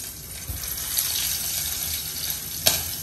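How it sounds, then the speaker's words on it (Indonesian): Sausages frying in a pan, a steady broadband sizzle that holds throughout with a sharp spatter pop near the end. "terakhir ini aku mau goreng sosis"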